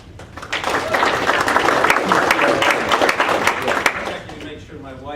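An audience at a university lecture bursting into applause, dense sustained clapping that builds quickly, holds for several seconds, then thins as a voice comes in.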